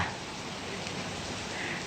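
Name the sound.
rain falling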